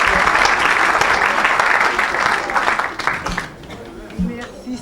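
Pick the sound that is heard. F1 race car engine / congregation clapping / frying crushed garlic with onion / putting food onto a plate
congregation clapping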